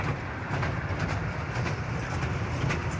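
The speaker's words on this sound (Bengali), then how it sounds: "টয় ট্রেন চলেছে নিজের গতিতে হেলে ধুলে।" A toy train runs along a seaside route by the Arabian Sea, a steady low rumble of wheels and carriages with faint rhythmic clatter, continuous and moderately distant with no talk.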